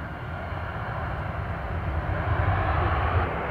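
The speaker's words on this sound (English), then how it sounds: "Getting ready for a touchdown on 17 left." Camouflaged military aircraft touching down on runway 17 left at Austin Bergstrom International Airport, a broad steady engine roar that swells slightly toward the end, heard from a distance with no talk.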